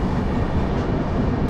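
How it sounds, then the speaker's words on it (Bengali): Express train, the Bikaner–Howrah superfast, pulling into Asansol station, with a steady loud rumbling roar of wheels and carriages, continuous and close, no voices. "আমরা এখন ঢুকছি আসানসোল স্টেশনে"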